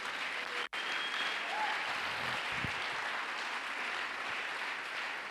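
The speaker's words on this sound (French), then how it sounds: "Acclamons pour lui." A church congregation breaks into sustained, dense applause, steady and enveloping with a brief dropout near the start, clapping throughout without talk over it.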